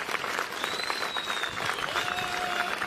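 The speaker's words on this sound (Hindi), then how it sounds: "खड़े होकर के एक बार ताली बजाएं" A crowd at a political party rally in Shimla applauds steadily, dense continuous clapping throughout with a faint voice or tone gliding through the mix.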